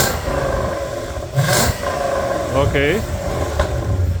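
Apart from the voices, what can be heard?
Lexus GS430 engine revving with DIY valved exhaust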